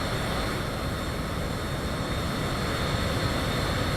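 Cessna Citation CJ4 business jet in a PC flight simulator, its engine roar a steady, dense broadband rush that holds evenly loud throughout with no clear rise or fall.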